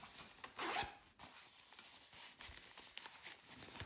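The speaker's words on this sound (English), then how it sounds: "Yeah, there's a zipper." A zipper on a padded DJI Mic Mini pouch, pulled in one short, close rasp followed by soft rustling and handling of the fabric.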